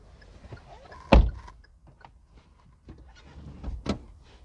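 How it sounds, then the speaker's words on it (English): The door of a 2021 Hyundai Grand i10 Nios Sportz Petrol AMT swings shut with one solid, close thump. A second, lighter knock follows a few seconds later over quiet background clatter. "Let's close the door."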